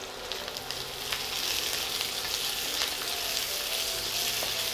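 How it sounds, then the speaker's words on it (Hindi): Shredded cabbage goes into a pan of frying sliced carrots for homemade Schezwan fried rice, setting off a loud, steady, close sizzle that holds without pause, with no talking. "अभी इसमें हम कैबेज डाल देते हैं।"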